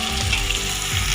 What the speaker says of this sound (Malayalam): അപ്പോൾ നമ്മൾ അതിലേക്ക് തക്കാളിയും കൂടി ഒന്ന് ആഡ് ചെയ്ത് കൊടുക്കുകയാണ്.